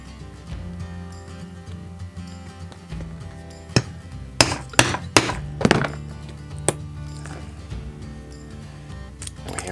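Hammer strikes setting rivets into a leather rucksack strap: a handful of sharp, close knocks clustered in the middle, several in quick succession, over a low background hum with no talk.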